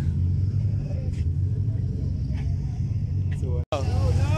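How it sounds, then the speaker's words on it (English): Subaru doing a burnout at a time attack race event in Tatu City, Kenya: a steady low engine rumble with revving, spectators chattering over it, cutting out briefly near the end before the roar resumes. "Whoa, burnout."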